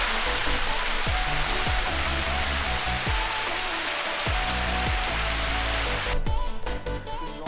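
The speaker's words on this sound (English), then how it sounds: "Thirty minutes later, we're still climbing waterfalls." A waterfall on the Ka'au Crater Trail in Hawaii rushes as a steady, broadband hiss, with repeated low thumps underneath and a brief rattling burst near the end.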